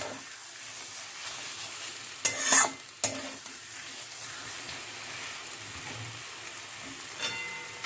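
Potatoes sauté over low to medium flame for aloo dum, a soft continuous sizzle in the pan with a few sharp spoon scrapes and clatters, close and with no talk.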